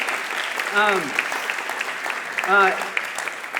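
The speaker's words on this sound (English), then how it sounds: "We can give him a round of applause if he's watching." A church congregation applauds in a steady, moderate wash of clapping, with short bursts of voice rising over it twice.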